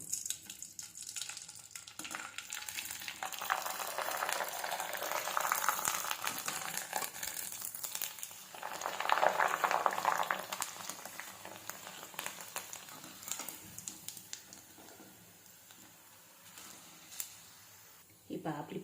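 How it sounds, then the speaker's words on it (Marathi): Kurdai crisps fry in hot oil with a continuous bubbling sizzle that swells and fades, with faint kitchen clatter near the end. "आता अगोदर आपण कुरडे तळून घेऊ"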